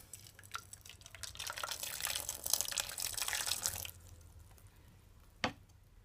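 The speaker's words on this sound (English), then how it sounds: "to my pot I'm gonna add some boiling water" Boiling water splashes and hisses as it is poured into a hot pot on the stove, a soft liquid pour lasting a few seconds and ending with a brief clink.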